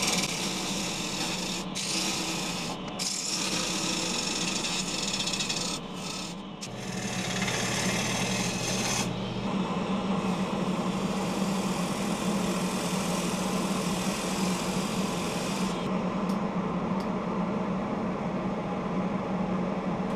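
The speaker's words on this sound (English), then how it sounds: "I'll use the three quarter inch bowl gouge instead." A three-quarter-inch bowl gouge cuts a cracked wood bowl spinning on a lathe, making a continuous loud rasping, scraping hiss over the steady hum of the machine.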